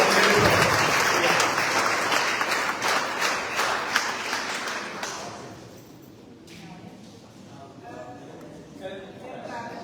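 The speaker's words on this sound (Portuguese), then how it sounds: "Eu queria uma salva de palmas a essa grande mulher" A seated audience at a book launch for a collection of political chronicles breaks into loud, sustained applause that thins and fades over several seconds, with a voice speaking faintly beneath the dying claps.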